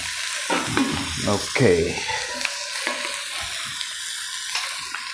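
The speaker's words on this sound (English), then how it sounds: "the onions are now browned as much as I want them, and time to put the mutton in" Pieces of mutton hit browned onions in a frying pot with a sharp burst of sizzling and loud stirring clatter, then a steady hiss continues. Someone says a single word near the start.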